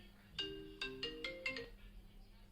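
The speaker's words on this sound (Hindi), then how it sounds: "चलो मेरा एक फ़ोन आ गया" A mobile phone ringing with an incoming call: a short melodic ringtone of rising and falling electronic notes, quiet and somewhat distant, playing alone.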